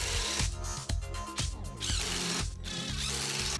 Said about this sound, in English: it's dry, so I can now add the screws in